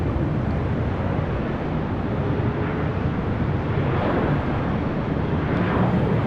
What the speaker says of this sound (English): It's flight coming in from Salt Lake City